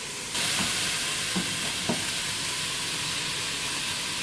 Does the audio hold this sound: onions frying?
yes